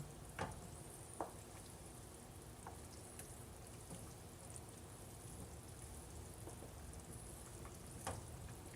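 Sauce simmering at a hot simmer in a pan, a steady quiet bubbling crackle with faint sizzle throughout and a few soft clicks near the start and end, no talking.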